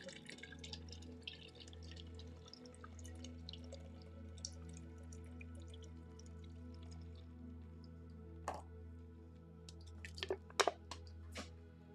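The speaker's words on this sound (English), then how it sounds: "put my coconut water in this cup because I'm very thirsty" Coconut water poured into a cup makes faint, close drips and wet splashes over a low steady hum, with a few sharper liquid spatters clustered toward the end.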